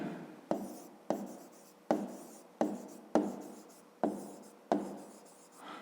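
Handwritten strokes of a fifth-grade math solution, likely pen on paper, come as about eight regular, close, scratchy bursts, each sharp at the start and trailing off, with no talk.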